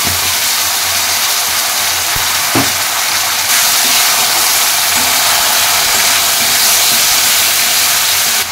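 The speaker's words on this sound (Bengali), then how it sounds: "এর মধ্যে আমি মিশিয়ে দিচ্ছি আগে থেকে পেস্ট করে রাখা মশলা আর টমেটো" Spice paste and tomato hit hot oil, already holding two dried chillies and two bay leaves, and fry with a loud, continuous hissing sizzle, a couple of soft clunks early on.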